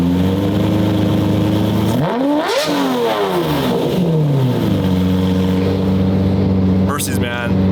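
A Mercedes car engine idles steadily, then revs hard with rising and falling pitch, settles back to a rumbling idle, and revs briefly again near the end.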